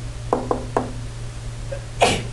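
A single sharp sneeze bursts out near the end of a quiet algebra classroom moment, preceded by a few light knocks or taps over a steady low electrical hum.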